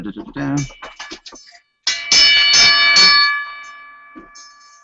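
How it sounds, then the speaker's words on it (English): A single bell strike opening a live hockey podcast rings out clearly and its tone hangs and fades over a couple of seconds, following brief talk. "let's start the show. We'll hit the bell."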